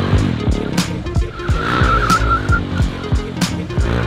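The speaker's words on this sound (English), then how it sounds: "You do that by adding more throttle to lose the grip on the back tire, and you can lean and slide the bike on the floor." Motorcycle drifting on pavement with the throttle opened to break the rear tire loose: a loud, close engine revs and pops in bursts while a squealing tire slide rises for about a second through the middle.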